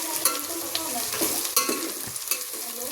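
Potatoes being stirred in a frying pan, a steady hiss of frying with scraping clicks and knocks from the spoon at irregular moments, close and fairly loud with no talking.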